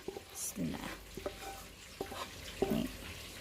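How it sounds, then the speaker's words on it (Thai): Rice with stir-fried sauce being stirred together in a pot for Arabian-style fish rice (khao mok pla), giving soft intermittent scraping and sizzling strokes with a few brief clinks, close and moderately quiet. "จากนั้นเราก็คน คนให้เข้ากัน"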